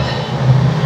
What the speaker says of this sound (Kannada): ನಮ್ಮ ಟ್ರೈನ್ ಇವಾಗ ಹೊರಡ್ತಾ ಇದೆ.